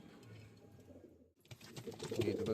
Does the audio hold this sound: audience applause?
no